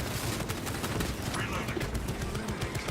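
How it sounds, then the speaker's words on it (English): An automated servo gun turret in the Space Marine 2 video game fires rapid continuous bursts throughout. The gunfire blends with other battle noise, and a voice speaks over it. "Servo gun is fully operational. Formidable tyranny organism terminated. Automated weaponry engaged."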